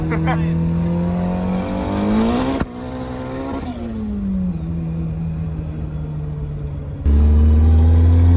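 A 500 hp turbo D16 Honda Civic sedan pulls hard on a highway from about 60, its loud engine note rising steadily through the gears, with a brief dip at a shift and turbo whine, heard from inside the car.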